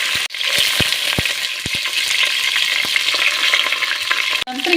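Bay leaf, cinnamon and cloves sizzle in hot oil for a vegetable pulao, a loud, steady hiss of frying with a few sharp taps and clicks scattered through it.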